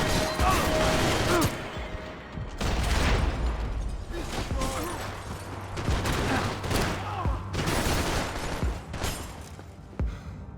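Heavy gunfire erupts in a Max Payne 3 firefight, rapid volleys of loud shots with mechanical clatter and booms, while shouting voices break in between bursts.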